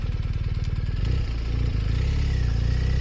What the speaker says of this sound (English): this is what it sounds like, just riding around this little downtown area with the wind spoiler and the helmet open